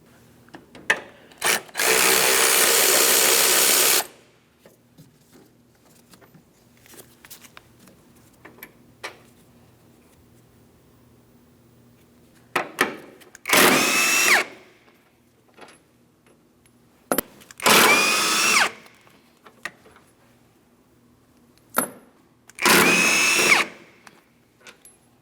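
An impact tool loosening 18mm upper control arm mounting bolts on a 2003-2007 Cadillac CTS, with several loud, close bursts of a few seconds each separated by quiet pauses and light clinks.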